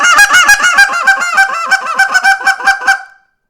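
A human voice imitates rapid turkey clucking calls, a fast string of sharp, honking 'ooh it ah' notes delivered loud and close, then stopping abruptly into silence.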